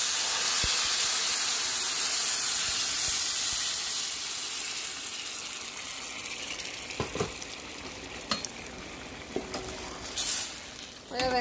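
Tomato added to toasted rice in a hot pan: a loud burst of sizzling and steamy hiss that slowly fades, followed by scattered utensil clinks and scrapes near the end.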